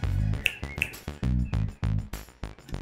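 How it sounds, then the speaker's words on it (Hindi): A woman snaps her fingers repeatedly in a quick, fairly regular rhythm, each snap sharp and close against a background of music. "ये चुटकी क्या बजा रही हो भाभी?"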